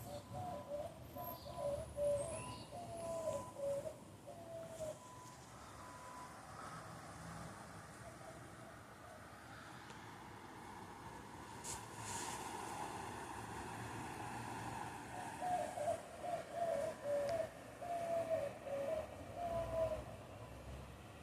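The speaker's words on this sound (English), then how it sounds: "The mixture of the construction I hear in the back going crazy, and then the bird." Birds call in two bursts of repeated cooing phrases, near the start and again near the end, over a constant low roar of distant construction noise.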